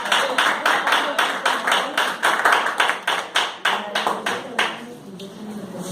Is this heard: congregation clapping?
yes